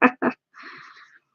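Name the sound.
sneeze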